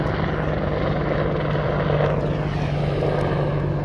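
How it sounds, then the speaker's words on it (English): A large military-style helicopter passes overhead, its rotors and engine making a loud, steady droning thrum with a persistent low hum throughout and no speech. "there's a big helicopter coming."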